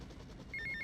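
A video game telephone rings for an incoming phone call, a short electronic trill of repeated bright tones over a low background rumble.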